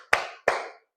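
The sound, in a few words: class clapping hands on count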